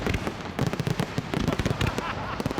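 Fireworks for a German Unity Day celebration crackle and bang in dense, rapid bursts, loud and continuous, with faint crowd voices mixed in.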